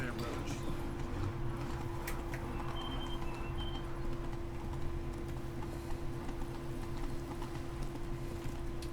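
Roach the horse's hooves clip-clopping steadily in The Witcher 3, a regular trotting rhythm close by with a faint background drone and occasional bird chirps, while a voice talks over it.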